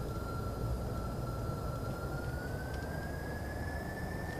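VTOL aircraft engines throttling up for takeoff in a video game: a steady engine roar with a rising whine that climbs slowly in pitch, fairly loud and continuous, with no voices.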